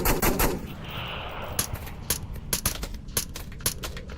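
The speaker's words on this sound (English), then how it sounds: "Hearing those shots from 2 down so far" Gunshots from a competitive Onward VR match ring out as a rapid string of sharp, separate cracks, some clustered in quick bursts. They carry at moderate loudness over a low rumble, with no talking.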